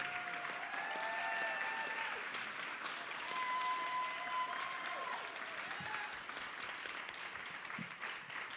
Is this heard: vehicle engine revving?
no